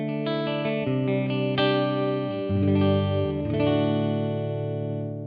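A clean electric guitar tone with reverb from an Axe-Fx rings out as a short phrase of sustained notes and chords, each decaying into a smooth wash, with no voices.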